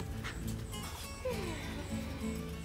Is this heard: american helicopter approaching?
no